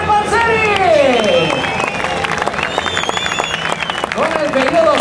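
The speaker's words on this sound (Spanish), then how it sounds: "Lo recibimos con un fuertísimo aplauso al líder del campeonato IRC, Brian Bouffier, Xavier Panseri." A crowd applauds and cheers rally drivers at the Rally Islas Canarias 2011, scattered clapping and crowd noise beneath a loud, excited announcer speaking over a public address.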